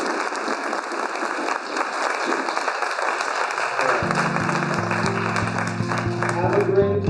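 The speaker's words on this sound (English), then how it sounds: "can we give a round of applause to Valerie for all of her efforts?" An audience at an October 2021 master plan public forum breaks into steady applause, a dense wash of clapping that carries on evenly while a tonal chime or music rises in the second half.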